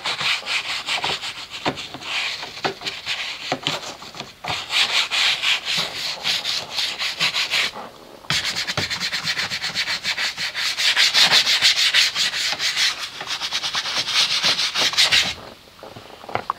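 A brush scrubbing a surface with a cleaning product, steady loud rasping strokes in continuous bursts with brief pauses, close up and with no voices.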